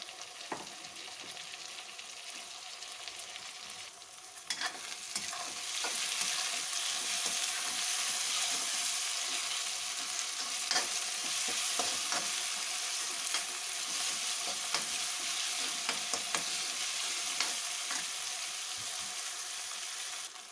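Masala for dahi wali bhindi frying in a pan until light golden, a steady close sizzle running throughout with occasional stirring clicks and scrapes, no talk.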